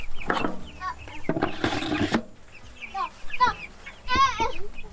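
Young meat chickens cluck and chirp close by in a stationary chicken tractor while pecking around for food pieces, with short, irregular calls and rustling.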